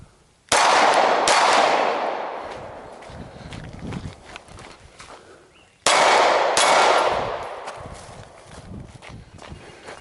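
Glock 17 pistol fired on an outdoor shooting course: two loud, close shots about five seconds apart, each followed by a long rolling echo that fades slowly, with faint clicks in between.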